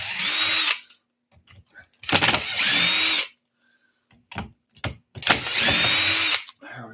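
Power tool driving screws into a car bulkhead during repair work, three separate loud whirring bursts of about a second each with quiet pauses and faint clicks between them, heard alone and close.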